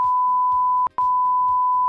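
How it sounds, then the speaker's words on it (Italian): A censorship beep cuts across a television episode, one loud steady tone held for about two seconds with a single short break partway through, above a faint low background. "Probabilmente qui c'era un beep."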